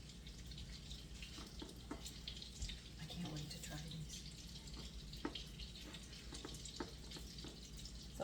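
Beef patties cooked with Jack Daniel's sizzle and crackle steadily in a hot pan, a continuous close frying hiss with scattered pops throughout.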